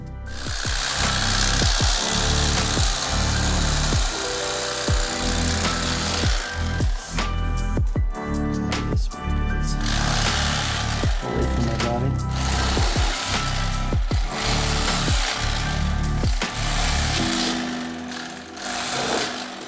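An electric fillet knife buzzes continuously and loudly while scooping rib bones out of a walleye fillet, its motor drone broken by rapid rhythmic chopping pulses and scraping against bone.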